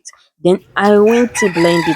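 A rooster crows loudly and close by in a Nigerian home kitchen where corn is being prepared and blended for pap, the drawn-out call overlapping briefly with a woman's speech.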